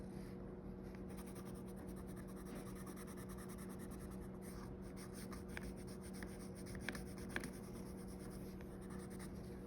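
Pencil colouring on paper, a steady close scratchy rubbing that keeps on without pause, with a faint low hum behind it.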